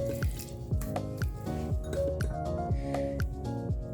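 Chicken breast being rubbed by hand with salt and dry chili masala, making a rhythmic series of wet squelching squishes, close and steady, about three per second.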